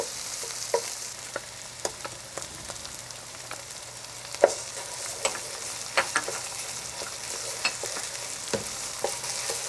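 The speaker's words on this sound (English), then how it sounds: "And I like to add the tomato paste right now." Tomato paste is stirred into an Iranian vegetable stew, khoresht o giahee, as it sizzles steadily in the pot. A spoon scrapes and knocks against the pot every so often under the constant soft frying hiss.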